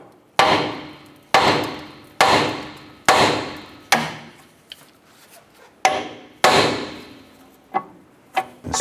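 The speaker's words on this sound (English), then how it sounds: "Let's go ahead and use a hammer. We're going to strike our knuckle here and pop that outer tie rod off." Hammer blows striking the steering knuckle of a 2008-2012 Honda Accord to pop off the outer tie rod: about ten sharp, ringing metal impacts in a steady rhythm, loud and close, with no talking.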